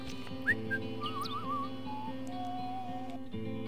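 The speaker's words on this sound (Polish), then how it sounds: "Czekaj, kto kurwa gwizdże?" Whistling in the Final Fantasy X HD video game on the Mi'ihen Highroad: a wavering, melodic whistle tone over a steady game ambience and music bed, clear and moderately loud.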